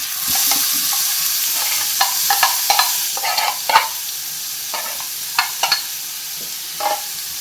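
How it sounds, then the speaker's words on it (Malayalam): Chopped onion, ginger and garlic fry in hot oil with a loud, steady sizzle, broken by repeated sharp clinks and scrapes of a spoon stirring in the pan. "എണ്ണ ചൂടായി വരുന്നുണ്ട് നമുക്ക് എണ്ണയിലേക്ക് ചോപ്പ് ചെയ്ത് വെച്ചിരിക്കുന്ന ഉള്ളി ഇഞ്ചി വെളുത്തുള്ളി ഈ കൂട്ട് ഇട്ട് കൊടുക്കാം"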